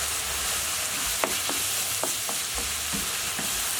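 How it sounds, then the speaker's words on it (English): Beef mince browns in a pan with garlic, salt and pepper, a bright steady sizzle broken by a spatula stirring and scraping several times; there is no talk. "we just want to continue cooking until our mince is brown"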